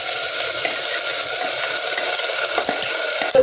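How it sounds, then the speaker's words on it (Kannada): Mustard seeds and ground masala sizzle in hot oil for tomato sambar. A steady, loud frying hiss runs throughout, with a few faint crackles and a brief clatter at the end. "ಈಗ ಎಣ್ಣೆ ಕಾಯ್ದಿದ ಮೇಲೆ ಸ್ವಲ್ಪ ಸಾಸಿವೆ ಹಾಕ್ಕೊಳ್ಳಿ."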